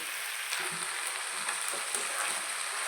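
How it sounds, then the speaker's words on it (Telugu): Eggplant and broad beans frying in a pan give a steady, close sizzle with soft crackles throughout, no voices. "ఇలా బాగా ఫ్రై చేసుకోవాలి"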